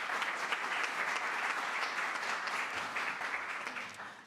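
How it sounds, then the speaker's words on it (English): Congregation applauding at a Unitarian Universalist Sunday service in New Jersey, a steady wash of many hands clapping at moderate distance that holds for about four seconds and tapers slightly at the end. "And yes, you can applaud."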